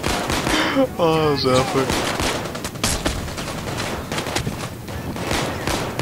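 Rapid bursts of gunfire from a Payday 2 heist firefight, including shotgun and AK rifle shots, crackling loud and dense across the whole stretch beneath excited talk from players.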